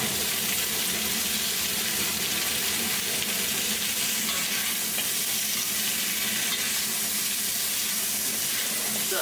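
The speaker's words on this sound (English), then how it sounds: "we're getting a good sear on there" Pork belly sears in a hot wok on a home-made high-output wok station, giving a loud, continuous, close sizzle and hiss with faint stirring beneath.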